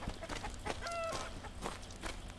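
Chickens cluck and squawk in a busy farmyard in the video game Arx Fatalis, several birds calling in quick overlapping bursts over a steady background murmur, with a sharp click near the end.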